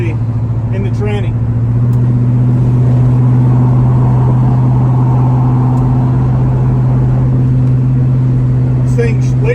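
A 1977 Chevy C10 Cheyenne pickup with freshly serviced transmission drives steadily, its engine droning loud and close as it works through the gears. Talk is heard early and again near the end.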